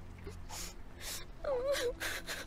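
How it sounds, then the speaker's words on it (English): Sobbing and heavy, ragged breathing from a character in the horror video game Holstin: several broken gasps and whimpering sobs in close succession, fairly loud and near. "Sobbing and heavy breathing."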